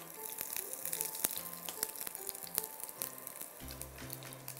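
Mustard seeds, cumin and ginger sizzle steadily in hot oil in a pan as a tempering is made, with a constant bright crackle and faint pops close up, plus soft clatters of utensils and no speech.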